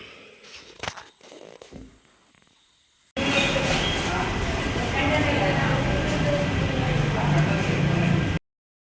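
A passenger train ride toward Guruvayur, heard as a steady rumbling interior drone of a moving carriage lasting several seconds after a quieter muffled stretch, ending abruptly.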